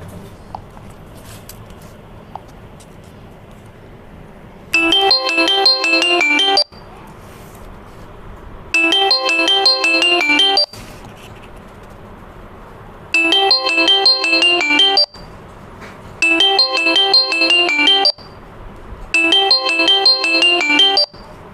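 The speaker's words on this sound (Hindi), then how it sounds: "तो चलते चलते आपको आवाज़ सुनाते हैं, देखिए यहाँ पर हम अपना पैटर्न खोल लेते हैं और आपको अब यहाँ पर हम आवाज़ सुनाएंगे।" Ringtone played through a repaired Redmi phone loudspeaker: five bursts of a bright melodic tune, each about two seconds long, separated by short quiet gaps, loud and clear over faint room noise.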